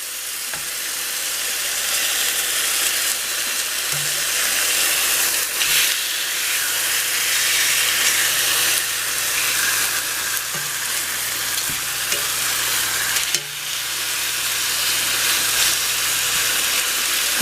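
Chicken pieces brown in a hot pan with a constant loud sizzle and hiss, broken by a few clicks and light scrapes, and no voices.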